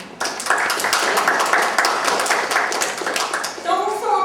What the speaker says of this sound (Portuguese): eu pedi uma salva de palmas para Paulo José